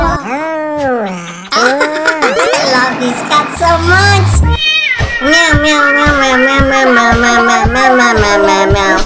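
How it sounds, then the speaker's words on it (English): Repeated cat meows, loud and close, some drawn-out and wavering, with a brief burst of other noise partway through. "I love this cat so much! Meow, meow, meow, meow!"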